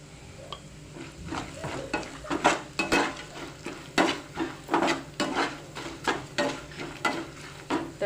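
A spoon works through lemon rice in a pan in repeated scraping strokes, each sweep a soft rasp against the metal with a faint sizzle beneath, close and rhythmic, about one stroke every half second, with no talk.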